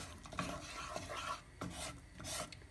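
Flour is stirred quickly into butter in a pan for milk helva, making close, rhythmic rasping scrapes in quick strokes with no talking.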